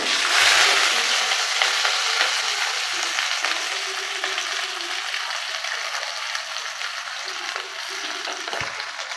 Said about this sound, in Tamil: நல்லா வதக்கிக்கலாம் இது ஆல்ரெடி வெள்ளை ஆனியன் இது பொன்னிறமாக ஆகிற வரைக்கும் வந்து நல்லா வதக்கிக்கணும்